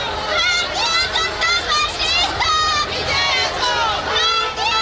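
A dense crowd at a BJP election road show rally in ward 12, a loud continuous roar of many overlapping voices with shouts rising and falling, close and enveloping.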